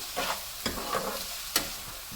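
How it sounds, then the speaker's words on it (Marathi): Potato and onion sautéing with turmeric and salt for fenugreek greens, a soft continuous sizzle broken by a few distinct spatula scrapes and taps against the pan, heard close up with no talking. "हळद मीठ बटाटा हे सगळं या कांद्याबरोबर परतून घ्यायचं छानपैकी."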